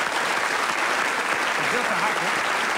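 A television studio audience applauds steadily, a dense, even patter of clapping that lasts the whole stretch without a break.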